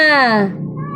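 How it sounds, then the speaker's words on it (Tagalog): A cat gives one loud, drawn-out meow that falls in pitch, heard up close during a Filipino online class discussion, followed by quieter room noise. "Okay, nag-aaway yung pusa."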